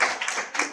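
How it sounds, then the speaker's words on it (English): An audience in a pharmacy hall at an IEEE international conference session gives a short, sparse round of applause, a few hands clapping unevenly at moderate distance, fairly quiet. "Please give a huge round of applause"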